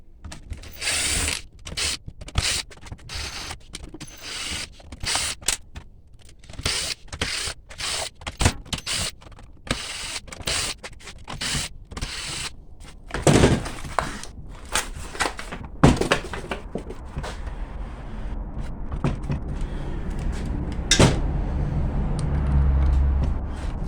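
A Ryobi reciprocating saw being taken apart with a socket wrench, giving a string of irregular ratcheting clicks, scrapes and metallic knocks at close range.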